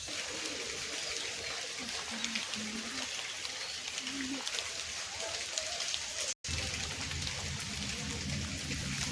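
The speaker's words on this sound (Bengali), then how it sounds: "আর তো মনে হয় আজ সারাদিন বৃষ্টি এবারও বাড়বে।" Steady rain pours down as a continuous, even hiss of drops on surfaces, loud and close throughout, with a momentary dropout near the end.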